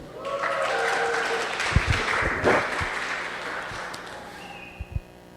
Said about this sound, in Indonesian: Tepuk tangan buat Jason.